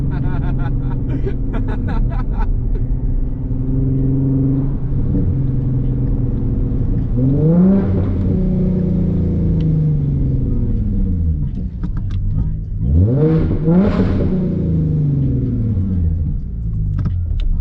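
A loud V6 Ford Mustang engine revs in traffic, rising in repeated sweeping pulls around eight and thirteen to fourteen seconds over a constant low rumble as the tires fail to grip, with no talking.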